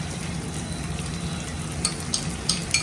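Ginger and garlic paste fry in a hot pan with oil, a close, continuous sizzling crackle punctuated near the end by a few sharp spits and pops, with no one talking.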